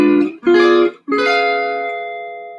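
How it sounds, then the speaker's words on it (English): Three strummed guitar chords in the Scooby-Doo cartoon style, two short stabs and a final chord left ringing out, close and alone with no talk. "this is why I call them Scooby-Doo chords"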